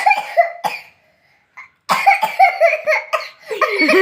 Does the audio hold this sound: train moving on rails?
no